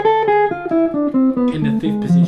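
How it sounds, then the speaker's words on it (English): An instrument runs through a two-octave A harmonic minor scale as evenly spaced single notes, loud and close with no voices. "the 2-octave A harmonic minor scale that I'm just playing"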